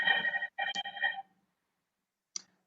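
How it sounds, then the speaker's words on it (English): A phone rings nearby with a bright, tonal electronic ringtone in a few short bursts, then stops, followed by silence and one brief faint blip. "Sorry about that if you heard my phone ringing then"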